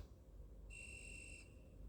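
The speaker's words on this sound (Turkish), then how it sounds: "Bu düdüğe basacağım şimdi." A whistle pressed in the video game Super Bear gives a single steady high tone lasting under a second, faint beneath a low hum of game background noise.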